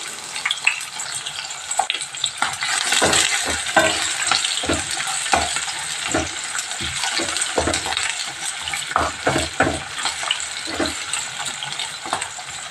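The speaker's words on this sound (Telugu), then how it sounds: "ఆనియన్స్ వేస్తున్నాను" Quartered onions fry in a pan for chicken biryani, a continuous sizzle broken by repeated scraping stirs of a utensil against the pan, close and moderately loud with no talk.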